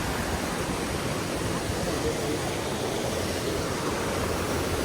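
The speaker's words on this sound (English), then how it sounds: "Right there, that's a waterfall." Waterfall on the Yuba River swollen in the rainy season, a steady, loud, even roar of rushing water that fills the whole stretch without pause.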